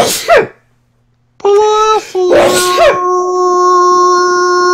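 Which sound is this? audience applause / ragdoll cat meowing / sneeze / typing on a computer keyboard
sneeze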